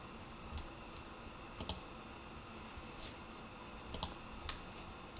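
Computer mouse clicks while working in COMSOL Multiphysics simulation software, a few quiet, sparse clicks with faint keyboard-like ticks over a low hiss.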